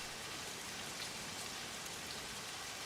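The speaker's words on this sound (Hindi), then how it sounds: "बहुत बारिश भी हो रही है" Heavy rain pours steadily onto a surface outside a house, a dense, even hiss with no letup and no voices over it.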